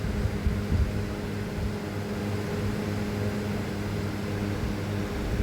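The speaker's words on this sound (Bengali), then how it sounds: "তেল গরম হয়ে গেছে কড়াইতে এবার দিয়ে দিলাম দিয়ে কিছুক্ষণ ঢাকা দিয়ে রাখবো" Egg frying in hot oil in a covered kadai, a steady soft hiss and sizzle muffled under the lid, continuous and even throughout.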